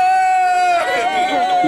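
Children at a birthday party cheer for Matt, starting with one held high-pitched shout that swells into a louder, rougher burst of mixed yelling and babble.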